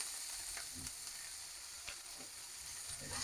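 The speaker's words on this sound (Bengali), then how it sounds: "আমি শাকগুলো টেলে নিচ্ছি" Greens (boitta shak) fry in a hot pan with a steady close sizzle, broken by a few soft stirring scrapes.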